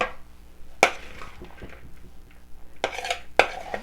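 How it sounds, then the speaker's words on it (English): Millet tabouli salad is being mixed in a large bowl, with utensils scraping and clinking against the bowl in a few sharp knocks between softer stirring and rustling sounds. "you see what I mean by using a large bowl to mix?"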